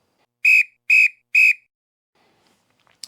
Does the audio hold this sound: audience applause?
no